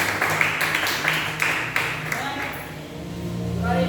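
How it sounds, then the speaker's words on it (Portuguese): A church congregation at a family worship service applauds with steady, moderately loud clapping, partly under a preacher's voice, with tonal music or hum beneath and the clapping fading out toward the end. "Pode sentar, aplaudindo o Espírito Santo de Deus."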